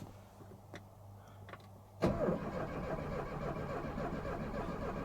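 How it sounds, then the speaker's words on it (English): A classic Peugeot car's engine cranks and catches about two seconds in, then runs on at a steady, rough idle up close, loud and continuous with no talking. "let's start the car"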